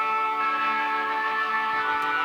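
Korg M1 organ patch pushed through heavy distortion and EQ, a sustained, buzzy harmonic-rich chord held steadily and loudly with no other sounds.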